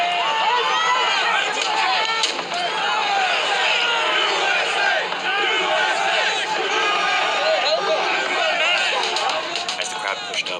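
Dense crowd noise from a street clash with police, steady overlapping shouts and chatter throughout, loud and close, with scattered raised voices rising above the roar.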